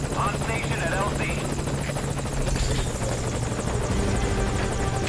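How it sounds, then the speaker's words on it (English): A helicopter in the Metal Gear Solid V video game holds a steady, loud rotor and engine drone for the whole stretch, with voices talking beneath it. "Put the target on the chopper."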